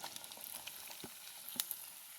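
Onion, curry leaves and mustard seeds frying with cut bottle gourd, a faint steady sizzle with light taps and a couple of soft stirring knocks.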